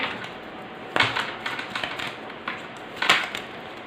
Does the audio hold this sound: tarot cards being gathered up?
yes